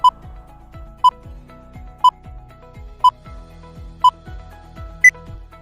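A quiz countdown timer ticks with five evenly spaced electronic beeps about a second apart over a faint low background, ending on a sixth higher-pitched beep.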